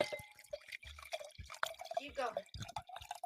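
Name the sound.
pouring a drink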